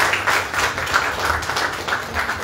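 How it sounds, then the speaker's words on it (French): Steady audience applause at a ceremony supporting women's entrepreneurship, a dense continuous patter of many hands clapping at moderate distance. "Merci de bien vouloir l'applaudir."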